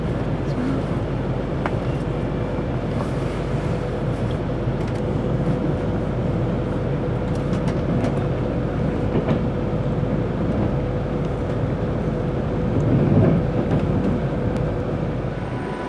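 Train arriving at Crewe station, heard from inside as a loud, continuous rumble of wheels and carriage noise with a faint hum, steady throughout with a slight swell near the end.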